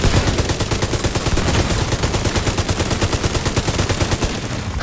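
Sustained automatic fire from a large-magazine weapon in The Division 2, a loud, steady stream of rapid shots rattling on for several seconds without pause, close and dominant.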